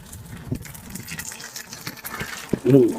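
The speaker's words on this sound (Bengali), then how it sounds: "এই যে পানি সাঁ করে দৌড়াইতেছে" Water gushes through the delivery pipe line of a ten-storey building in a soft, uneven rushing flow that swells near the end, with a short voice-like sound over it.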